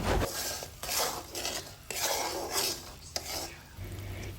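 Jaggery being stirred with ghee in a pan for a puffed-rice laddu, with repeated scraping and clattering strokes of a spoon against the metal in uneven bursts, close and fairly loud.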